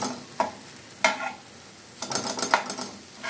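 Egg bhurji being stirred in a pan, with a few sharp spatula scrapes against the metal over a soft sizzle, then a busier stretch of scraping and mixing toward the end.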